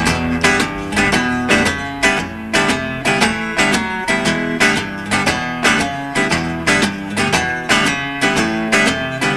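A guitar chugs a steady boogie-blues rhythm with regular accented strums and bass notes, loud and close, with no voices.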